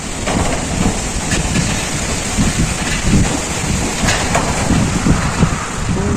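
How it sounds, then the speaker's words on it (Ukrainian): Strong wind before a thunderstorm buffets loudly and continuously, a rough roaring rush with gusty low rumbles, no voices. "Вітер йде."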